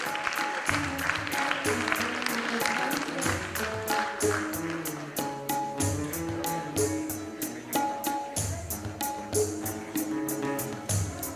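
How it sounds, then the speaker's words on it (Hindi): Audience applause at a ghazal concert, a dense steady clapping that runs through the whole stretch alongside ongoing music with rhythmic taps. "जोरदार तालियां हो जाए प्लीज।"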